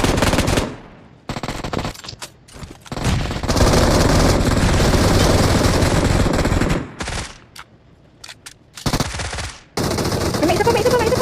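Machine gun fire in the mobile battle royale game PUBG Mobile comes in long, loud sustained bursts broken by short silent gaps, with a few shorter volleys afterward.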